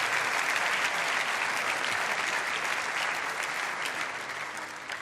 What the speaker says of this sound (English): Let's have a big round of applause for the Japanese factory.